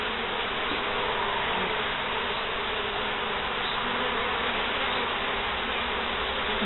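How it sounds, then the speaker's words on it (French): A honeybee swarm around beehives in spring, giving a loud, dense, continuous buzz of many wings that stays steady and close throughout, with no speech. "il y a un essaim qui est rentré"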